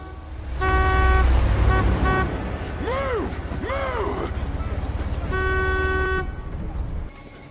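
A car drives against the flow of traffic at a guarded border crossing, its horn sounding in loud sustained toots with short repeated honks over engine noise, while vehicle whoops rise and fall in between.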